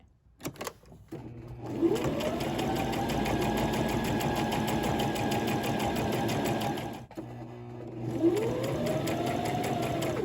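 A sewing machine runs a regular stitch down the side and across the lower edge of a pocket on a jogger set, in two long, even whirring runs with a brief stop between, close and alone.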